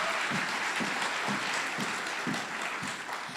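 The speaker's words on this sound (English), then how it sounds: "Flo, big applause." An audience at a 2019 English senior semifinal event applauds, giving a dense, continuous wash of clapping that stays fairly steady throughout.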